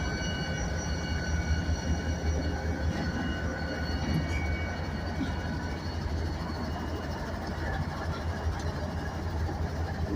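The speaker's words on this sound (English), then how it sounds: "Another GPU equipped locomotive. This is a ES44AH." CSX freight locomotives, including GPU-equipped units and an ES44AH, rumble past at Maxwell yard in Greenwood, South Carolina, a loud, steady engine drone with rolling wheel noise that continues unbroken throughout.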